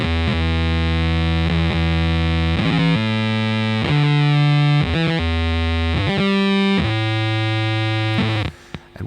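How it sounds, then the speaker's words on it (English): A Data Corrupter guitar pedal puts out a loud, distorted, buzzy tone that jumps between sustained pitches in uneven steps, with glitchy, unsteady shifts and brief dropouts before cutting off near the end. "this is where the pedal gets a little bit weird, because it's just not a constant tone that you're hearing"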